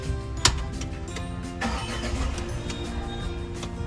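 Tata Punch car started using its flip-key system: a brief click, then the engine cranks and catches into a steady idle close by, with no talk.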